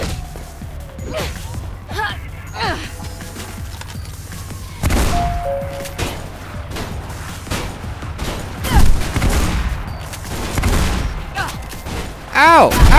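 Gunfire in the video game Mirror's Edge: scattered shots and impact bangs burst out in clusters through the middle and end, mixed with whooshes and other game noise.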